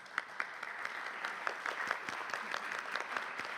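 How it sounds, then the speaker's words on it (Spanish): Audience applause at a round-table panel on radio art, fairly quiet and distant, with distinct individual claps audible in an irregular patter. "Para todos ellos, un aplauso"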